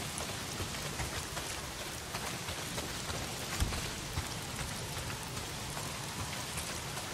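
Heavy rain pours steadily in the video game Days Gone, a dense constant hiss of drops on surfaces with no voices.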